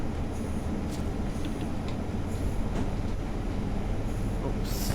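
A Class 142 Pacer train runs at Cardiff Central station, a loud, continuous low rumble of diesel engine and wheels with faint squeals, and a voice in the background.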